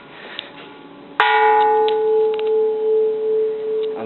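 An Edo-period bronze Japanese Buddhist temple bell with a crack gets a single strike, giving a sharp attack and then a long, steady ringing tone that hums and beats slowly as it fades, heard close up and alone.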